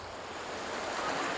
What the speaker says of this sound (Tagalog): magumulta dire sa tubig para mabanlawan